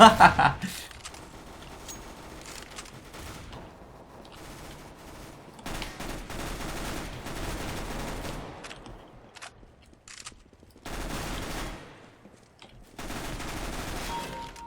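Gunfire in the video game Counter-Strike: Global Offensive comes as dense bursts of rapid shots and fusillades, with a voice talking in the clip.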